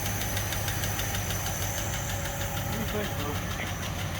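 A Packard car engine idles close by with a steady, even rumble and a faint rhythmic tick running through it, and someone speaks over it.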